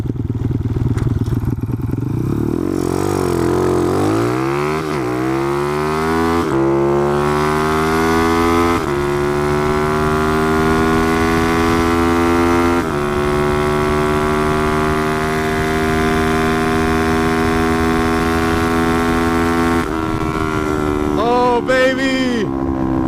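A Honda CT70 minibike engine revs hard through a quarter-mile run, loud and close, its pitch climbing through each gear and dropping briefly at every shift before a final wind-down.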